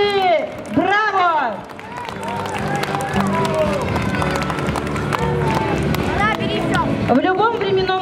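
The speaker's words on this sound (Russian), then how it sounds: "Вам аплодисменты, красавицы! Браво!" Audience applause for female performers of a folk song ensemble, a dense, continuous patter of clapping that runs the whole time, mixed with voices and music.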